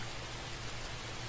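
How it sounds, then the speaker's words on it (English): Rain falls steadily in a town setting, a dense even hiss of drops that is moderately faint and continuous, with no voices. "Rain is still coming down, and it looks like the rain is increasing even further."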